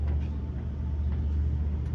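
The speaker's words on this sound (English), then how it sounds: "this is the original motor for the car," Original engine of a 1955 Chevrolet Delray running smoothly, a steady low rumble held evenly throughout with no revving or pauses, heard close and alone without voices.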